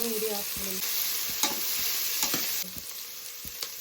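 Chopped onions and green chillies frying and being stirred in hot oil at an outdoor village cooking spot, a steady close sizzle broken by occasional clicks and scrapes of the stirring utensil.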